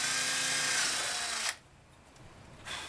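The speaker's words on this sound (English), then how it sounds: "I love drilling plastic." A drill whines at high speed boring into plastic for about a second and a half, then stops, and a brief second burst starts near the end.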